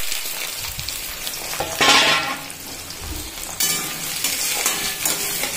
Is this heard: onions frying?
yes